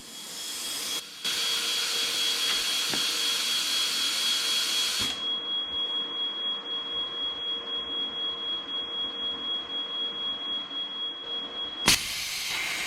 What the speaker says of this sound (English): I'm cutting this 1-inch round bar freehand